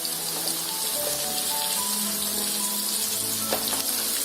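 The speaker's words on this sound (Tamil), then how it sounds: "மிளகாய் ஃப்ரை ஆக ஆரம்பிச்சிருக்கு." Chilies frying in hot oil in a pan alongside mushrooms, onion and salt give off a steady, bright sizzle and crackle with occasional louder pops, close up, with no one speaking.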